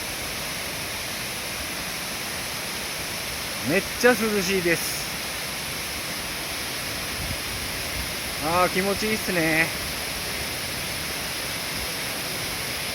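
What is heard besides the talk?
Shirami waterfall in Oita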